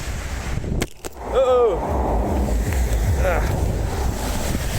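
Strong wind buffets the microphone throughout at a roundabout in Stirling, Scotland, a low rumbling roar with gusts, while a voice speaks briefly over it near the start.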